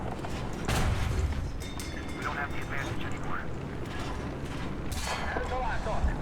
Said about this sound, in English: And there we go with a deflected shot